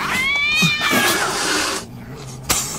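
Domestic cats at a large cat home yowl in a long, drawn-out meow with a rising, wavering pitch, loud and close, followed by a short sharp noise near the end.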